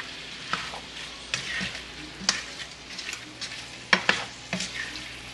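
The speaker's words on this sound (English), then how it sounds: "give it a good stir" Pineapple, bell peppers and onions frying in a pan with shrimp, stirred with a utensil: steady close sizzling with repeated scraping and clacking strokes, no voices.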